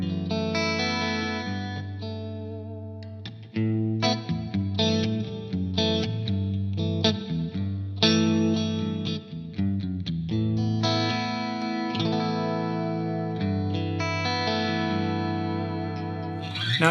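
Clean-toned electric guitar with the compressor pedal switched off plays chords and single notes for about seventeen seconds, ringing steadily and close, with no talking.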